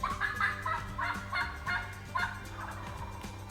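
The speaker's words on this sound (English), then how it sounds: "pretty soon 2 gobblers answered." Several gobbles from two wild turkey gobblers ring out in a rapid series, moderately distant and outdoors in Arkansas, with a few softer calls trailing off.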